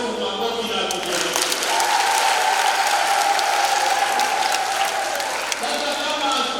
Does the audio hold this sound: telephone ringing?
no